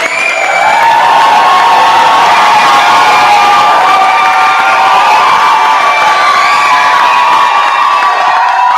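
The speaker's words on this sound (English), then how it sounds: "Can we give another round of applause?" A loud crowd at a nurses' pinning ceremony cheers and whoops with applause, shouting voices rising over steady clapping throughout, dense and close.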